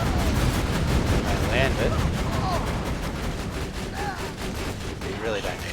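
Rocket pod turret firing in Borderlands, a rapid stream of loud blasts and explosions running the whole time, with a voice talking briefly over the barrage.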